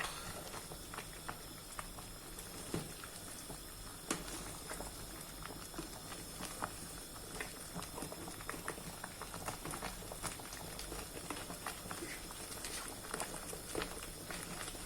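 Thick ogbono soup bubbling in a pot, giving a steady close simmering patter with soft irregular pops throughout, no voices over it.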